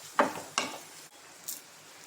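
Fish with curry leaves and cumin is sautéed in a pan: two quick scraping stirs and a lighter later scrape over a faint sizzle, close by.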